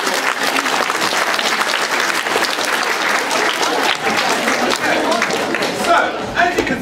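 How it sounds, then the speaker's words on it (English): Audience at a science museum presentation breaks into sustained applause for two volunteers, a dense and steady wash of clapping that fills the room, with faint crowd murmur underneath. "give my two wonderful volunteers a big round of applause"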